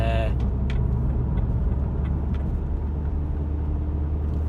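A car being driven on the road, with a steady low engine and tyre rumble heard from inside the cabin and a brief indicator-like tick near the start.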